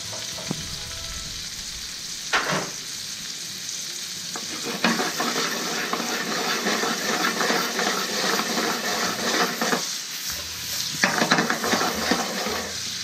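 Mushrooms sautéing in a mix of butter and oil in a restaurant kitchen, a loud ongoing sizzle broken by bursts of stirring and scraping in the pan, with no talk.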